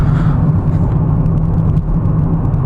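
A BMW X5 pulls onto Interstate 80, a continuous low engine and road rumble heard from inside the cabin, steady and even throughout.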